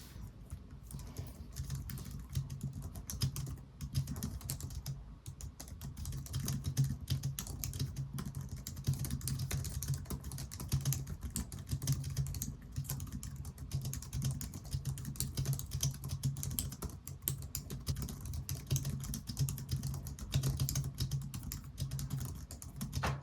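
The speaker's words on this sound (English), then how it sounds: "Overall, this is a very nice keyboard and here's a quick type test." Steady, rapid typing on a Logitech MX Keys S keyboard, low-profile keys clicking softly and continuously at close range for over twenty seconds with no talk.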